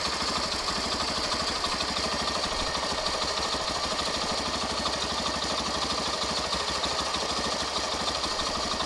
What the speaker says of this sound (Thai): เดี๋ยวจะสตาร์ทให้ดูนะครับ นี่นะครับรอบเครื่องมันสูงขึ้นมานะครับผม